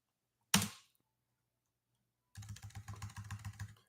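One sharp click, then after a pause a quick run of rapid keystrokes on a computer keyboard, close and fairly faint, with no talking.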